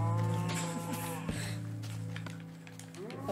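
A cow in the Minecraft video game gives a low, drawn-out moo that holds steady for a few seconds, fairly loud and close, with a second moo starting near the end and no talking over it.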